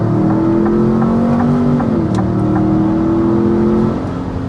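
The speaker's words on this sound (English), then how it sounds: "we need to go ahead and start with a hard acceleration" A 2025 Ford Expedition Platinum accelerates hard uphill to 60 mph, its engine drone rising steadily in pitch with a brief dip at a gear shift, heard loud from inside the cabin with no talk.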